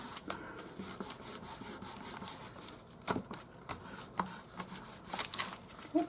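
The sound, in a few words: rubbing off a homemade stamp made from wood offcuts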